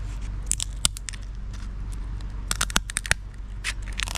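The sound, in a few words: rusty shop scissors cutting lobster shell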